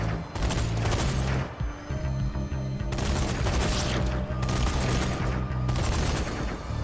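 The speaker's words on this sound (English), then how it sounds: "then we can start using the gun turret to quickly take them out" Rapid, sustained automatic gunfire from a mounted gun turret mowing down slow-moving zombies in the video game Zombie Army 4, loud and continuous with heavy booming bursts throughout.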